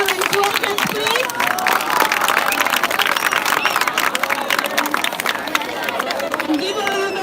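Crowd applause at a school anniversary celebration, steady dense clapping with a murmuring audience and babble of voices under it, continuous throughout.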